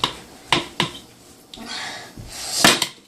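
A thick, sticky homemade no-bake granola bar mixture with a little flour is stirred in a bowl, giving several sharp knocks and clicks of the utensil against the bowl between short, dull scraping stretches, close and fairly loud.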